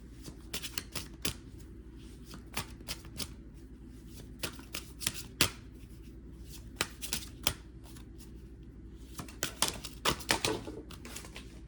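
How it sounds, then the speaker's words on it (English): Oracle cards being shuffled by hand, with repeated crisp riffles and slapping flicks in irregular bursts, close and fairly quiet, over a low steady background hum. "We'll get a few oracle cards."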